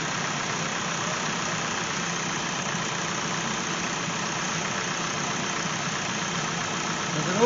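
A 2016 Hyundai Elantra engine idles after a coil replacement, holding a steady, even hum with no breaks throughout.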